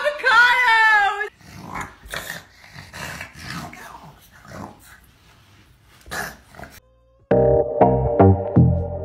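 A dog growls low and rough in a bursty, uneven run, with a few voices speaking around it and a loud tonal sound cutting in near the end.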